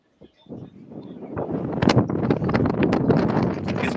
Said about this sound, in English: It's pretty windy at the track right now.